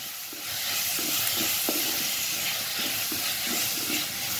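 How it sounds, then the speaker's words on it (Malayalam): Tomatoes being stirred into a hot frying pan for Ayala Mulakittathu, a spicy mackerel curry: a steady close sizzle with a run of soft, repeated spoon scrapes and stirs. "ഇനി നമുക്കിതിലേക്ക് തക്കാളി ഇട്ട് എടുക്കാം. എന്നിട്ട് നന്നായിട്ടൊന്ന് ഇളക്കാം."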